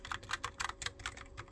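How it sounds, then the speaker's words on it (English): Rapid typing on a Logitech computer keyboard, a steady run of crisp, close key clacks with no voices over it. "it mostly started with this keyboard because it's very satisfying to type on"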